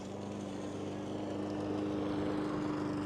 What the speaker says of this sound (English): there's someone here mowing the grass. Oh, that sucks on the push mower.